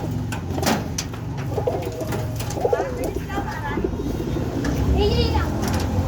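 Pigeons coo in a loft, some of them keeping eggs, their soft repeated calls sounding close while children chatter and play nearby.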